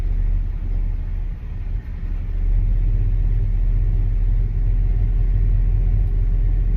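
A Chevrolet Malibu engine idles after a cold start with a steady, close, low rumble that holds evenly throughout, no talking over it.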